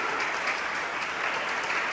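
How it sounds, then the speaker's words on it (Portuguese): Brief burst of applause from a church congregation during a Sunday worship service, dense and continuous, heard on its own without speech. "Aplaude ele!"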